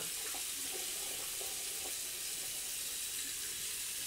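Hot water runs steadily from a tap, a soft continuous splashing with faint clinks near the start, fairly quiet and without any talking.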